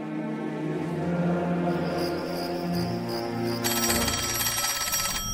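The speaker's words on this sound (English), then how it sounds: "he distinctly heard a phone ringing in the building's parlor" An antique telephone rings in the parlor of the old Dean House, a steady, loud electric bell trill that grows harsher and brighter partway through, with no voices.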